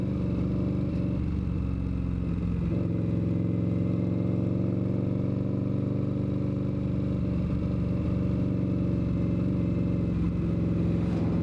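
An Indian motorcycle engine runs steadily while being ridden, a loud, continuous low hammering drone that holds an even pitch throughout with no talk over it.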